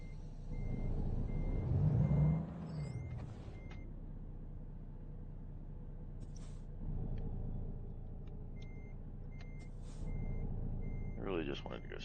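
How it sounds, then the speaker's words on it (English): Steady, evenly spaced reversing beeps from a truck in American Truck Simulator, sounding over a low engine rumble that swells briefly near the start, with a short hiss later on. "back in reverse"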